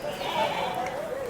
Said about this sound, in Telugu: ఈ గొర్రెలు వచ్చేసి వినండి ఒకసారి